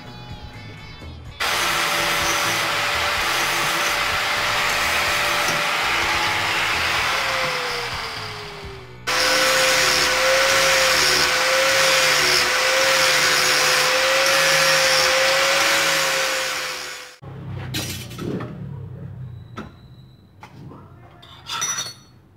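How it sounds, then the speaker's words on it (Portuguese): Power sander smoothing a VW Beetle gear shift lever part held in a vise: a loud steady whine runs for about seven seconds, pauses briefly, runs again for eight seconds, then stops, followed by faint clinks. "Aí eu vou lixar, dar esse acabamento aqui primeiro."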